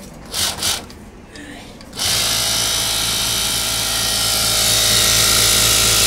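A King Tanks industrial flatlock sewing machine runs at speed, a steady loud mechanical whir that starts abruptly after a couple of seconds of quieter handling noise and holds constant to the end.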